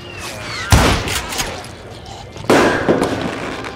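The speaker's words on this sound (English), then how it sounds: "Why are you shooting fireworks?" Fireworks shot in the Western video game Call of Juarez: Gunslinger, two loud crackling bursts with booming pops and trailing fizz, close and dense.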